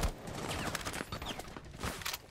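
Rapid gunfire in a Rainbow Six Siege match, sustained bursts of shots crackling continuously over a noisy background with no talking.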